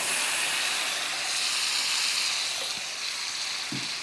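Marinated mutton sizzling in spices inside a pressure cooker for a mutton dum biryani, a steady bright hiss of frying filling the whole stretch without pause, close and even.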